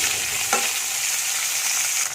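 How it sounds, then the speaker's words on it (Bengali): Oil sizzles and crackles continuously as dried fish fries in a pan, a dense hiss with a brief stir midway. "মাছটাকে একটু ভালো করে ভেজে নিচ্ছি।"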